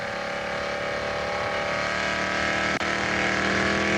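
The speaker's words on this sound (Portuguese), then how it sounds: "esse barulho que você está ouvindo aí é o ronco do motor do safety car ali" A Formula 1 safety car engine roars loudly and steadily, revving with a rising whine, close and continuous with a brief dip partway through, at the 2006 Australian Grand Prix.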